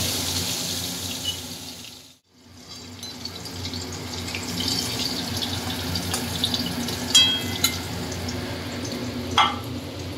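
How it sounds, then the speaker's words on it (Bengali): Koi fish fry two at a time in hot oil with a continuous hissing sizzle that drops out briefly, then resumes with occasional crackles and pops. "দুটো দুটো করে সব এইভাবে ভেজে নেওয়া হবে মাছটা"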